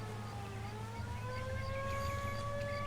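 Ambulance siren in the video game L.A. Noire, a steady wailing tone sliding slowly upward over a low engine-like drone, continuous and fairly prominent with no talk.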